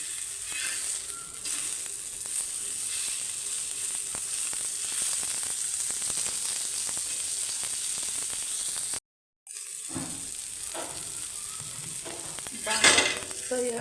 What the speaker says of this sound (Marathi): अजून थोडा वेळ भाजा बारीक गॅसवर असल्यामुळे थोडा वेळ लागतो